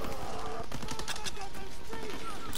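Rapid, dense bursts of gunfire from a Call of Duty WW2 battle, steady and fairly loud throughout with overlapping shots and no clear pauses.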